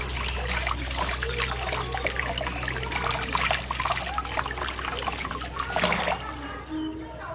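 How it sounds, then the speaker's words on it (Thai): Makrut limes washed under running tap water, a steady trickle and splash that holds close and continuous, then stops near the end. "เสร็จแล้วล้างน้ำให้สะอาดนะคะ"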